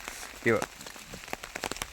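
Heavy rain pours down steadily close by, a dense continuous hiss with scattered drop patter, briefly joined by a short voice.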